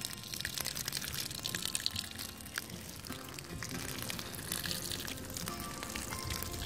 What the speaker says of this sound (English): So let's water them in.